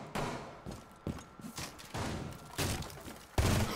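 Several gunshots in Rainbow Six Siege, a sharp report near the start and a heavier burst at the end, with thuds and bursts of firing between.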